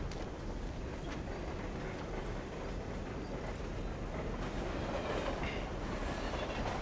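Train rolling on rails in the video game Lost Planet 2, a steady dense rumble with faint clattering wheel noise, continuous and moderately loud throughout with no talk over it.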